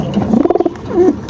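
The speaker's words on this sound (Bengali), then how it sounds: "এটা হচ্ছে আমার আগের কবুতর এবং এটার বাচ্চা উঠছে" A pet pigeon in a home loft, an older bird with young chicks, gives a close, loud cooing call: a quick pulsing run of throaty notes followed by a single drawn-out coo.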